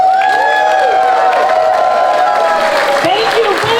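A rally crowd at the state capitol breaks into loud, sustained applause and cheering, dense clapping with a few whoops close by, continuing throughout.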